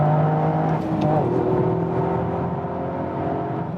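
A 2021 Toyota GR Yaris, a 261 hp all-wheel-drive hatchback, revving through its exhaust, with a steady engine drone and tones that sweep and shift while a voice talks over it.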